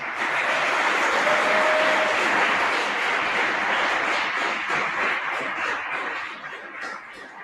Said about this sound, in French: Vous pouvez applaudir Élise, Soraya, Jérémy et Yanis qui montent sur scène